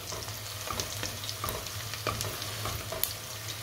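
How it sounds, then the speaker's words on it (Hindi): Pulao ingredients fry in a pot while being stirred toward golden brown, with a soft continuous sizzle, a low hum, and intermittent scrapes and clicks of the spoon, with no voices. "हिलाते रहेंगे साथ साथ ताकि ये जले ना, बस ब्राउन हो जाए"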